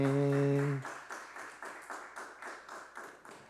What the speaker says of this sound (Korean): 우리 하나님 앞에 영광의 박수 올려드립시다.